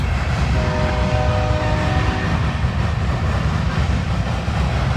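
CSX freight train with two-bay hopper cars rolling past close by, a heavy low rumble and rattle of wagons with a horn sounding briefly early on, continuing loud throughout.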